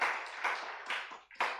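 A church congregation clapping during a Sunday afternoon service, several bursts of many hands in short uneven waves, fairly close, with no talk over them.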